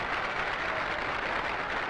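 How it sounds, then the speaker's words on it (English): Baseball stadium crowd at an All-Star Game applauds as a player crosses home plate after a home run, a steady, dense wash of clapping heard from a distance with no break. "Brooks Robinson adds some applause of his own as he scores"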